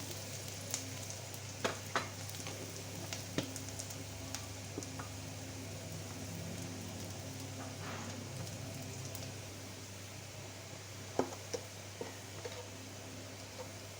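Spice paste frying in a pan with a piece of cinnamon and a cardamom pod, a steady low sizzle throughout with occasional faint clicks and stirring taps, moderately quiet and without talk.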